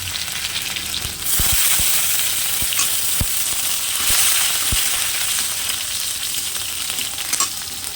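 Plenty of garlic hits hot oil seasoned with tempering spices in a home kitchen, bursting into a loud, steady sizzle with a few pops and light stirring clicks, no voices.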